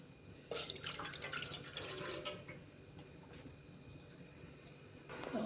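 Water is poured into a pot for making tea, a faint splashing and trickling that runs for a couple of seconds, then fades to quiet room noise before resuming briefly.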